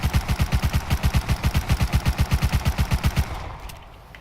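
MP5 submachine gun with a muzzle boost attachment, fired in the video game Rust: a fast, even burst of about two dozen rounds over three seconds, then a short tail fading away.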